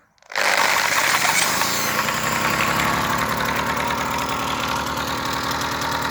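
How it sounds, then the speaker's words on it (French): A Solex 330 moped engine, spun up by an electric drill, fires after sitting for 50 years and settles into a loud, steady, close-up mechanical running roar with a rapid rattling beat. "je vais faire ce premier démarrage avec vous, avec ma perceuse"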